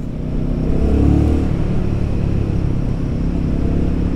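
A Royal Enfield Guerrilla 450 engine rumbles loud and close, with a slight swell early on and then a steady low drone from the throttle being worked on and off.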